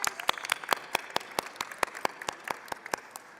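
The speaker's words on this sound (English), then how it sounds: "So I would like to applaud y'all." Applause in a legislative chamber for newly seated women members, a modest scatter of distinct hand claps at moderate distance that thins and tapers off over a few seconds.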